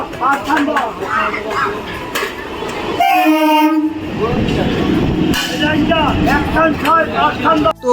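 A passenger train rumbles loudly at close range while people talk over it, and a long, tonal horn blast sounds in the middle before the rolling clatter resumes under more voices.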